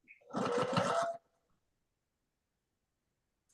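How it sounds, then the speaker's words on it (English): A sewing machine whirs briefly in a short, steady burst, then stops, leaving near silence before a faint click at the end. "he doesn't like the sound of the sewing machine"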